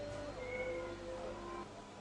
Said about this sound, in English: Because your meowing's kind of irritating.